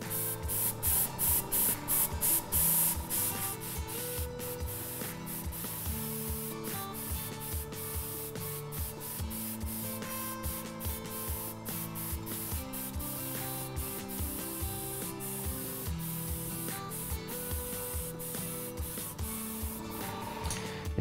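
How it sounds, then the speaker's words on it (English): An airbrush sprays Cretacolor Aqua Brique paint in a steady hiss with rapid rhythmic pulses and faint mechanical tones underneath, continuous and close for the whole stretch. "Now a few details I'm spraying on now."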